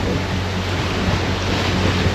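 Big waves on the Hebridean Sea heard from a sailing boat running dead downwind under genoa en route to Barra, giving a steady, dense wash of surf with wind noise and a low hum throughout.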